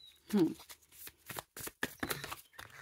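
Cards riffle and slap together in quick close bursts of shuffling, with a voice talking over them.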